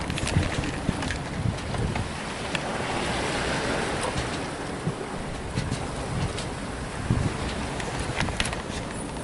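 A sailboat running southwest across open ocean on the passage from Panama to the Marquesas, with steady wind rush and buffeting on the microphone over continuous wash of water along the hull, no voices.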